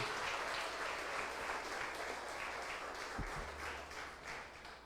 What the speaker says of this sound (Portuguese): Pode aplaudir, isso é para ele.